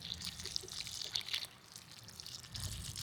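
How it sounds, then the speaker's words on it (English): Water mixed with fish fertilizer poured from a container onto newly planted tomato plants in a garden, a soft steady splashing trickle running continuously at close range, alone without talk. "just water them in. And this is water mixed in with some fish fertilizer."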